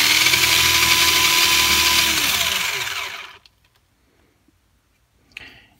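A vintage Kyosho Outrage MKII RC car's electric motor whines loudly in reverse, a high buzzing run that winds down and cuts out, followed by near silence and a small click.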